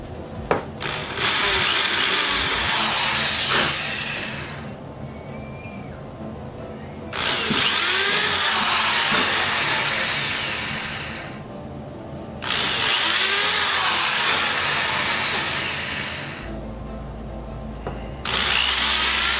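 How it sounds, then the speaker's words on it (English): Power drill boring small, shallow starter holes for guitar tuner screws, three loud whirring bursts with short pauses between them, heard up close. "So I've just started the holes, drilled in a tiny little bit, not very deep at all."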